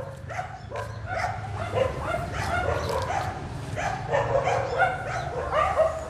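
A puppy out on a grassy farm lawn yips and barks repeatedly in quick, high bursts, with some whimpering, close and fairly loud throughout.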